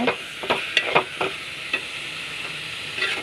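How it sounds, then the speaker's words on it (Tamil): Curry leaves, coriander and green chillies for thuvayal sauté in a pan over a steady, hissing sizzle, with a few distinct scraping stirs near the start and then quieter frying. "நல்லா வதக்க விட்டு அரைச்சி எடுத்துக்கோங்க"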